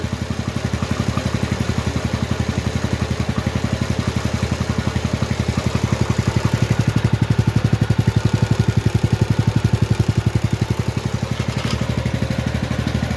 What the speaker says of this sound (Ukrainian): зараз буде основний шківо працювати, основна передача